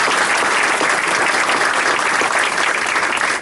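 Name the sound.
audience applause at a commission ceremony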